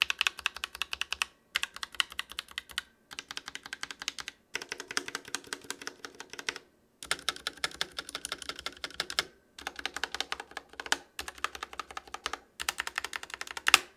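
Typing on an ROG Scope RX mechanical keyboard, a fast, steady clatter of crisp key clicks in bursts separated by short pauses, close and clear with no talking.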